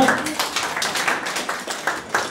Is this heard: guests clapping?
yes